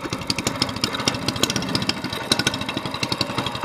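A small mud motor boat engine running steadily with a fast, buzzing, rattling putter, fairly loud and close, alone without talk.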